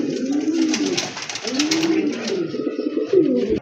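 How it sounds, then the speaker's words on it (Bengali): A pair of bright red Rajgolla pigeons coo up close in soft, rolling, repeated calls that run almost without a break. "আরেক জোড়া কবুতর, রাজগোল্লা কবুতর"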